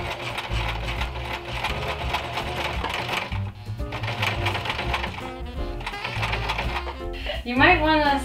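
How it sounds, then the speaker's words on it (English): A sewing machine stitches retro ornaments onto a Christmas table runner, a steady rapid mechanical whir with brief pauses, close and clear, ending in a short squeaky sound. "So I'll just start sewing all these on, and then Lauren's gonna add her bows."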